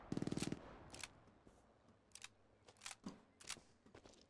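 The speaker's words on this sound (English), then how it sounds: "Just keep shooting, careful." Gunfire in the Hell Let Loose video game, a quick rattling automatic burst at the start followed by scattered single shots and distant cracks, fairly faint overall.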